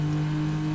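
A Toyota Supra engine in the Assetto Corsa racing game, driven at Monza, held against the rev limiter as a steady, loud droning buzz with a strong constant tone, brief and unbroken.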